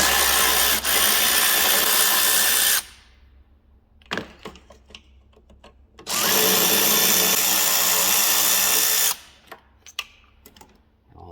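A power driver backs out long-reach T30 Torx screws during a chaincase rebuild on a 2014 1100 Turbo. Two sustained, loud whirring bursts of about three seconds each are separated by quieter clicks and handling noises.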